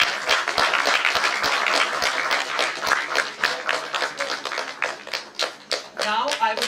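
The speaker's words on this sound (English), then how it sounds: "A big round of applause for them." An audience at a criminal justice research cell event claps for people called onto the stage, a moderate, uneven patter of hands with individual claps standing out.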